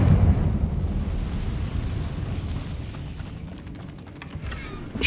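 Confringo blasting spell going off in the Hogwarts Legacy video game: a loud, rumbling explosive burst that fills the clip and stays dense and steady for about five seconds, with sharper crackles toward the end.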